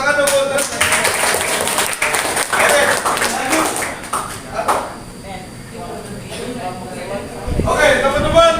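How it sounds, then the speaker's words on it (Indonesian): Students in a swimming-lesson class clap together in a brief burst of applause, mixed with voices and chatter, fading to classroom talk before a louder stretch at the end. "Tepuk tangan dong buat kalian."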